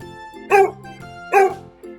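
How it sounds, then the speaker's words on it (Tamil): Two sharp dog barks, evenly spaced and close by, ring out over a steady musical backing. "நாய்"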